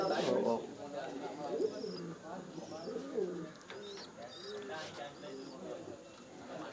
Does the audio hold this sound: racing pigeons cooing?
yes